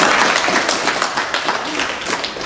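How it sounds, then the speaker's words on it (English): A room full of seminar attendees applauding, dense steady clapping that is loud and close throughout, with no gaps. "Give yourselves a big round of applause."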